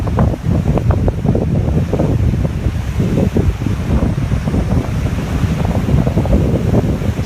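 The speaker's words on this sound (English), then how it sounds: "Ocean's all churned up. All this foam is from the wave action" Churning ocean surf whipping into foam at South Seaside Park near high tide, a constant loud roar of breaking waves mixed with heavy wind buffeting the microphone, with no talk.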